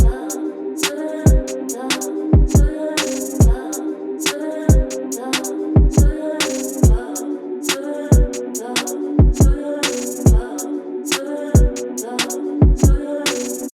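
A full drill type beat plays alone, with sharp, regular drum hits and bursts of hi-hats and snares over a steady, dense melodic bed and low bass.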